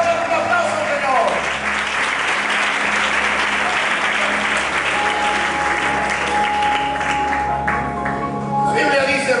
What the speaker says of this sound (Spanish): ¡En esta hora un aplauso